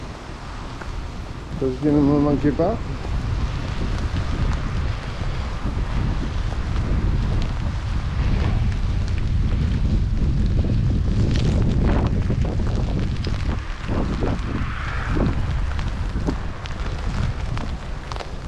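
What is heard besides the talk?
wind blowing head-on into the microphone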